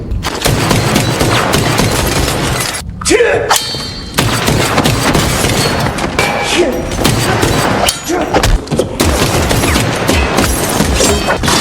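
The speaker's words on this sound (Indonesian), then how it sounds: "mereka diganggu oleh tembakan yang dilakukan oleh Mr. Nobody" Loud, dense bursts of gunfire with heavy thuds and crashes pile up almost without pause, a chaotic barrage close at hand, from a John Wick 4 film scene.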